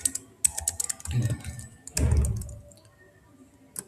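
Someone types on a computer keyboard in bursts of rapid clicking, with a few heavier thunks mixed in. Keystrokes are close and fairly quiet, and no one speaks over them.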